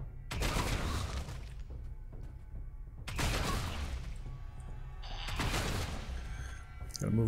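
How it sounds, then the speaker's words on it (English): Weapon fire from Warhammer 40K Deathwatch comes in three loud, dense bursts, each lasting about two seconds, with a busy game soundscape continuing underneath. "let's start shooting at stuff here"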